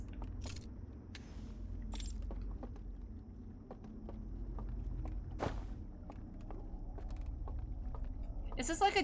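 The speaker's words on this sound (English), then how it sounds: "I can literally hear footsteps." Footsteps in the video game Outer Wilds: Echoes of the Eye tap out a slow, steady series of soft, distinct steps over a low ambient hum, with a few jangly clinks and a sharper knock midway.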